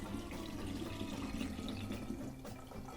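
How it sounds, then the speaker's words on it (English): Clarified milk punch poured into a siphon whip, a steady close liquid trickle and splash running continuously without pause, no talking. "Pour our good stuff into our siphon whip here"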